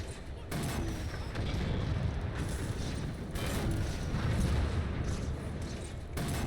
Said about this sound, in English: I heard a satisfying explosion.